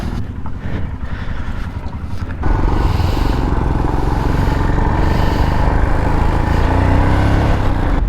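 Motorcycles pull away on a mountain road in Tibet, engines rising sharply into a loud, sustained roar after a quieter idling start, with wind buffeting the microphone.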